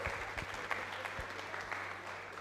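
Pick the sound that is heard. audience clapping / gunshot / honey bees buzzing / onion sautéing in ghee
audience clapping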